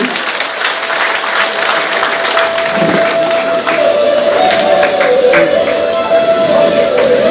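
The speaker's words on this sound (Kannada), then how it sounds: "ಎಲ್ಲರೂ ಕೂಡ ಜೋರಾದ ಕೈ ಚಪ್ಪಾಳೆಯೊಂದಿಗೆ ಗೌರವಿಸಬೇಕು." A crowd at a birthday felicitation ceremony applauds loudly and steadily throughout, dense clapping with a faint tone and some voices underneath.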